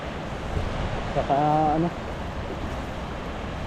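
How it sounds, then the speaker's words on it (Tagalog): Strong wind beside a river in Taiwan buffets the microphone in a constant, loud roar, with a brief spoken phrase partway through. "Malakas ang hangin ngayon."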